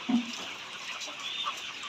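Layer hens on a poultry farm cluck softly, with one brief lower cluck near the start over a steady, faint flock murmur, and no voices.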